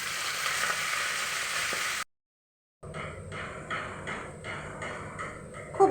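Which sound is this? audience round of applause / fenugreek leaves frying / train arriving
fenugreek leaves frying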